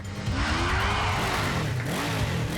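A motorbike speeds along, its engine revving loudly with pitch rising and falling continuously, close and without speech.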